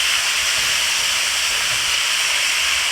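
Rice stir-frying with garlic, ginger and scallions over high heat, giving a loud, steady broadband sizzle and hiss that carries on unbroken, with no talking.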